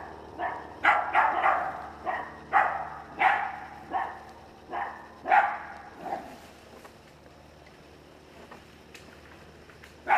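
Several dogs barking in rapid, overlapping bursts for about six seconds, fairly close, then fading to quiet.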